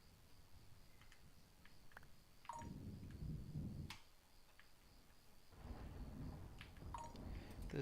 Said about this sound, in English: This definitely qualifies as a thunderstorm.